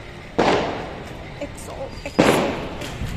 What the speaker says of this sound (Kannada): ಪಟಾಕಿ ಹೊಡಿತವ್ರೆ.